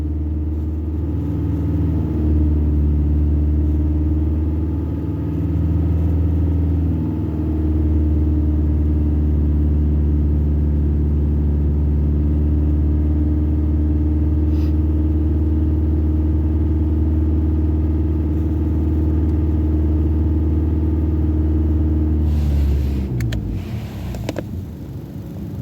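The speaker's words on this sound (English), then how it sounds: "it's going to tell you to increase your RPMs to 2000 RPM. So I'm going to do that now" A car engine held at a steady 2000 RPM during an OBD2 charging-system test, a loud, continuous mid-pitched drone with a constant hum that drops away near the end.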